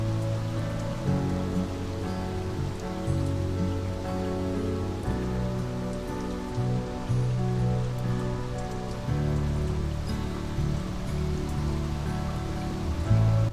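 Rain falls steadily at Dunnet in northern Scotland, a continuous dense patter on surfaces with a low rumbling undertone that rises and falls, and no voices present.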